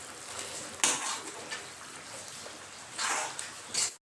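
A spoon scrapes and clinks around a pot while fried dhekia fern is stirred into a simmering curry, with soft intermittent scraping bursts, a few louder strokes, and a quiet kitchen background.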